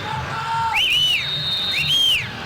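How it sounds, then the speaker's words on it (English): A football coach on the sideline of a 1999 Copa America semifinal, Mexico against Brazil, whistles through his fingers in sharp rising and sliding blasts, two main calls over a low stadium crowd murmur. "And Mexican coach La Fuente whistles his orders"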